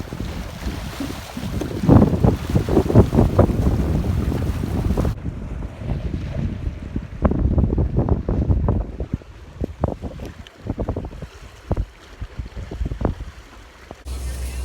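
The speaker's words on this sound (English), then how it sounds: "It's so windy." Strong outdoor wind buffets the microphone in loud gusts, rough and roaring for the first five seconds, then easing into softer, uneven blowing with short bursts and a brief thud near the end.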